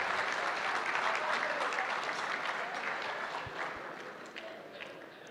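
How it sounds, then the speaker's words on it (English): Crowd applause at a corporate anniversary gala, a broad, sustained wash of clapping that slowly fades toward the end, heard somewhat distant and faint. "That deserves a round of applause."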